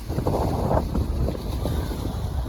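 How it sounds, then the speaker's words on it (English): Strong winter wind by the lake at Ohori Park, a continuous low rumbling buffet against the microphone with no voices. "The wind is pretty strong here. I believe you can hear the wind."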